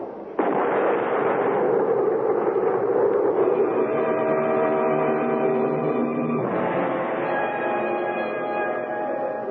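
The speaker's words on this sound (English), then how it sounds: "Ready? Aim. Fire." A radio drama sound effect of a firing squad rifle volley: a sudden loud blast that swells into a sustained rumbling roar with a second surge midway, continuous and dense, with no voices.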